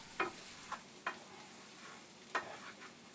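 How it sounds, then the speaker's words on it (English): Potatoes frying in a pan, stirred a few times with sharp scraping clicks over a soft, steady sizzle, heard close and alone. "Then stir them up and try to get an even brown on all sides."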